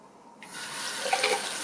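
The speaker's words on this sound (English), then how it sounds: "so I'm just going to rinse this off" Shower head being rinsed under a running tap to clear hard-water deposits, the water switching on and then running in a steady, close splashing stream.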